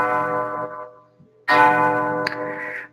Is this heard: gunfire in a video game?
no